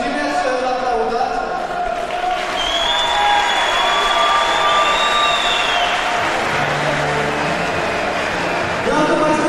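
Arena audience at a kickboxing event applauds a fighter in the ring, a steady wash of clapping and crowd noise under a loud announcer's voice with whistle-like tones.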